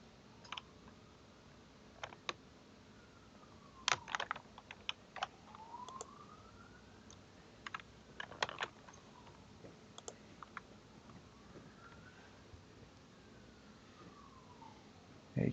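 Computer keyboard keys are tapped in scattered bursts, quiet irregular clicks over a low room hum, with a faint siren rising and falling far off in the background.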